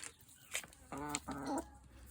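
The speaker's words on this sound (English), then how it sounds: "So we have 4 chickens." A few short clucks from backyard chickens in rural Australia sound close by, a couple of brief calls in quick succession against a quiet background.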